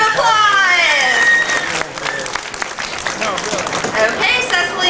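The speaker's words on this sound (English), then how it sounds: "Let's give her a giant round of applause." A crowd applauds a young girl at the Spirit of the Tiger show at Six Flags Great Adventure, steady clapping rising after a brief bright voice at the start and swelling again near the end.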